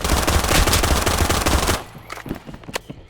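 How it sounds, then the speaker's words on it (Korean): Loud, rapid automatic gunfire in the VR battle-royale game PUBG, with a dense burst lasting under two seconds and then a few scattered, quieter shots and clicks. "여기 여기 쏜다 나 쏜다"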